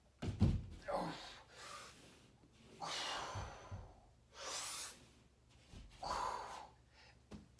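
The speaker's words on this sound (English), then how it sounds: "notice my breathing too" Heavy, forceful exhalations come in rhythmic bursts during handstand push-ups, each breath pushed out audibly and close, with quiet pauses and a few soft thuds between repetitions.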